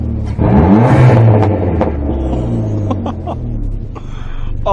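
A Chrysler PT Cruiser GT engine with a Mopar Stage 1 tune revs loudly up close, then settles, with sharp crackling pops from the exhaust scattered through the idle.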